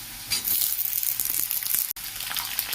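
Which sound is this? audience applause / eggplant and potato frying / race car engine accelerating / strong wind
eggplant and potato frying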